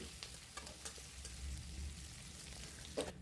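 Chopped onion sizzles in hot oil in a pan for a taro and tomato curry, a soft, steady frying crackle with a few louder pops, close and alone.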